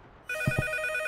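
A telephone rings in a video game, a short electronic ring with two quick pulses over a steady tone, fairly clear and close, with no talking.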